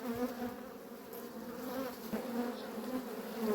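A steady, close drone of many honeybees humming together at an open hive, continuous and fairly soft, with no voices.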